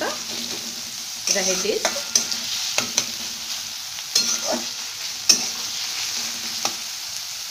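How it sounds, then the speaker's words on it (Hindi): Vegetables stir-frying on a high flame in a pan for veg fried rice, a steady close sizzle with repeated scraping and stirring knocks, and a brief spoken word near the end. "फ्लेम को हम हाई पे रख रहे हैं क्योंकि हमें सब्जियां बिल्कुल पकाना नहीं है"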